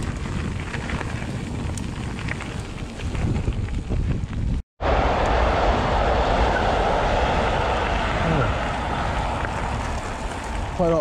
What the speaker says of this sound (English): Quite a lot of timber on that cargo train, yeah?